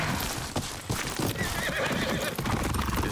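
A horse in Ghost of Yotei gallops with rapid, close hoofbeats and lets out a loud neigh midway, all over a dense wash of game ambience.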